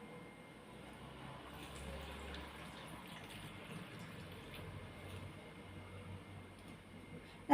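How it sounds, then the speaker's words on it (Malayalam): Water is poured into a cooking pot of vegetables for Kerala-style avial. A faint, steady trickling and splashing stays low and close, with no talking. "ഇത് വേവിക്കാൻ ആവശ്യത്തിലുള്ള വെള്ളം ഒഴിച്ചു കൊടുക്കാമേ"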